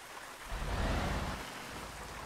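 Heavy rain and fog in a driving video game, heard as a steady broadband hiss of rainfall that swells slightly early on and then holds evenly, with no voices over it.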